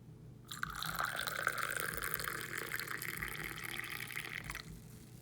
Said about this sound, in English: Then add milk so that you know where to stop